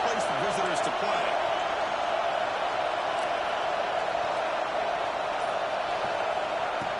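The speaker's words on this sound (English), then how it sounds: "And wow, listen to this crowd noise." Steady roar of a packed college football stadium crowd, a dense continuous wash of noise at even loudness throughout, with a few faint voices poking through near the start.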